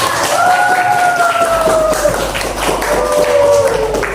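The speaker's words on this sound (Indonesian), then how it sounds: "Tepuk tangan untuk kita semua." A school classroom of pupils claps together in quick, steady rhythmic beats, fairly close and loud, with children's voices chanting along over the clapping.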